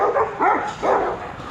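Dogs let out three quick barks and yips in a short burst, close and moderately loud, with no one talking.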